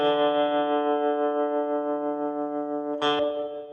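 Electric Fender Stratocaster recorded through a DI with effects processing, a single sustained chord ringing with slight wavering modulation before a fresh strum near the end, alone with no talk.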